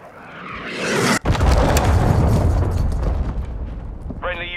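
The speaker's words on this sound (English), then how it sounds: "Missile inbound." An incoming missile explodes in Call of Duty: Modern Warfare II, with a rushing whoosh, a sharp cut, then a huge sustained roar of blast and debris close by, and a short radio-style voice at the end.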